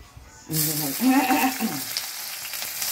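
Onions hitting a pan for a cauliflower and potato vegetable biryani, bursting into a sudden loud sizzle after a brief quiet start, with a voice heard briefly over the frying.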